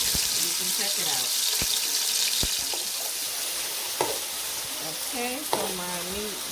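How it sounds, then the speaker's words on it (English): Beef sears in a hot pan with a steady crackling sizzle, interrupted by occasional clinks and scraping from stirring, while faint voices murmur in the background of a home kitchen. "I'm gonna let my beef sear up a little bit"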